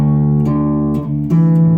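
Bass guitar looping a riff, a steady low sustained line with a few note changes across under two seconds, played alone and close with no talking.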